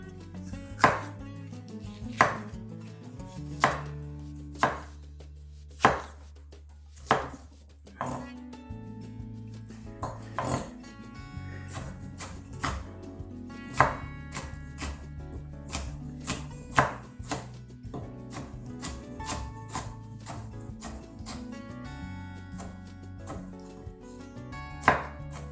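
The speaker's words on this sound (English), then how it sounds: "just a little bit red pepper and make it small pieces" A knife chops red pepper into small pieces on a board. Sharp strokes come at first in a slow, evenly spaced rhythm, then quicken into denser cuts, all over soft background music.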